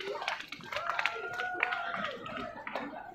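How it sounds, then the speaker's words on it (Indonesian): Audience at a live concert in Singapore clapping along during a performance, a dense patter of hand claps mixed with sustained musical tones and voices, moderately loud and continuous throughout. "Tepuk tangan sikit."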